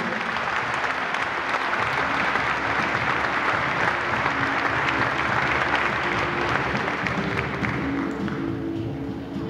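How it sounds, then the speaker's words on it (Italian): Enthusiastic audience applause for the parents at a family celebration, dense sustained clapping from a large crowd lasting nearly ten seconds and tapering off slightly at the end. "Signori e signori, un fortissimo applauso per i nostri genitori."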